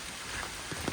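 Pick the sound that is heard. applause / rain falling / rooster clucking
rain falling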